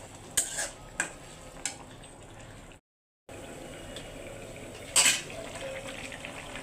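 A metal utensil scraping and stirring in a pot of fish curry, with a few sharp clinks and scrapes against the pot over a low steady background hiss, close and moderately quiet, interrupted by a brief cut to silence.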